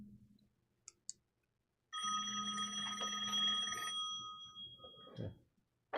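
Telephone bell ringing in a quiet room, a single sustained metallic ring lasting about two seconds after a couple of faint clicks, no talking.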